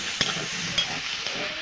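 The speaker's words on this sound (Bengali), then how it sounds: "এটা এবার নাড়াচাড়া করে ভেজে নেব" Chickpea greens and boiled peas with turmeric and salt being stir-fried in a pan, giving a steady close sizzle with three soft scraping stirs spaced about half a second apart.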